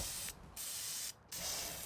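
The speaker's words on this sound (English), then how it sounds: "take a black metal spray paint" Two short bursts of black metal spray paint hiss from an aerosol can onto furniture hardware, each lasting about half a second to a second, loud and close with a brief pause between them.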